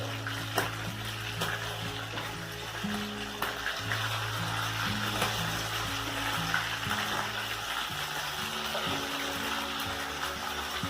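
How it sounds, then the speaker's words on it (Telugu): Oysters fry on a medium flame in a pan with a steady, moderately loud sizzle and occasional small pops, continuing evenly throughout with a low hum in the background. "ఇలా కాస్త మీడియం ఫ్లేమ్లో పెట్టుకుంటే బాగా ఫ్రై అవుతాయి."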